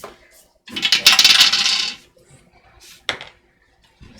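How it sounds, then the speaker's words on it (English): Dice rolled across a table during a tabletop Dungeons & Dragons Curse of Strahd session: a loud, rattling clatter lasting about a second, then a single sharp click as a die settles, close and with no talk. "So you guys can roll some hit die."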